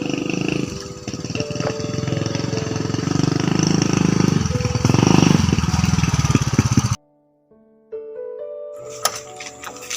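A motorbike engine revving nearby with a rough, loud roar that holds for several seconds, then cuts to near silence before a quieter tonal stretch returns.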